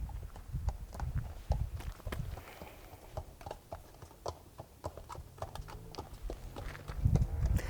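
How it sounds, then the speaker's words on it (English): Horse hooves clop at a walking pace on firm, level ground during a veterinary soundness examination, a steady even rhythm of fairly faint, crisp impacts with no voices. "So we start by assessing the horse and walk first,"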